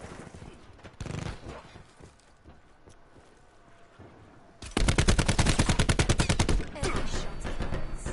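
Gunfire in Call of Duty: Black Ops 4, a few scattered shots followed by a loud, sustained burst of rapid automatic fire with steady rhythmic cracks, close and dominant.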